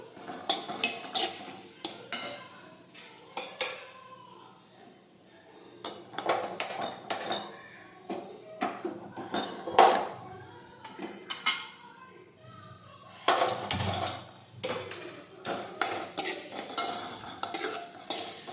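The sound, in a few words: sautéing chopped onions in a pan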